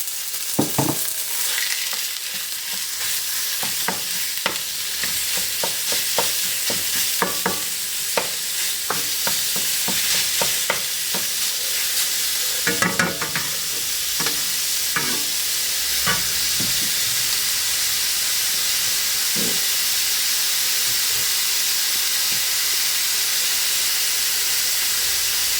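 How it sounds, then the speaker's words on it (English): Pork stir-frying in a hot wok over medium-high heat, a steady loud sizzle and hiss with scattered crackles and scraping stirs throughout, no talking. "And in goes our pork."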